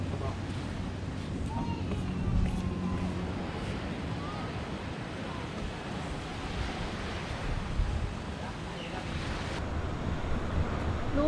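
Steady surf washes continuously on the coast at Pattaya, Thailand, with wind rumbling across the microphone, and voices speak faintly now and then.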